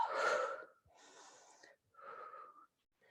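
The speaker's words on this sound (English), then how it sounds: "Inhale, exhale." Slow, deliberate yoga breaths, a strong rushing inhale followed by softer breathy exhales, close and audible in a quiet room.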